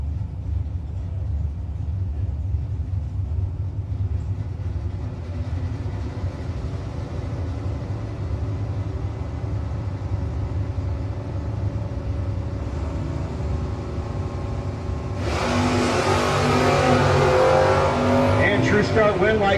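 A Dakota and a Mustang rumble at idle on the line at a no-box drag race, then erupt into loud, close revving and hard acceleration near the end.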